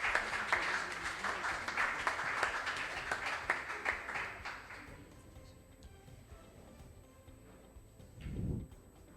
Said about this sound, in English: Let's give the contestants a round of applause before we begin.